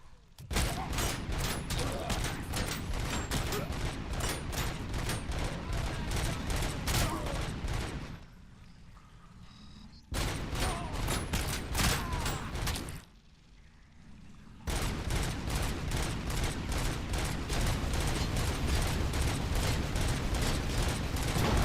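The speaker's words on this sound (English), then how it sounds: "Oh, turrets." Turrets in the video game Robocop: Rogue City fire sustained rapid automatic bursts, loud and dense, breaking off twice for a couple of seconds before resuming.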